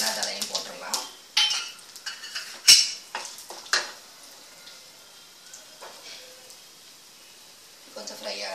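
Urad dal and mustard seeds crackle and pop in hot oil in a kadai, mixed with sharp clinks of a metal spoon against the pan and some quiet talk.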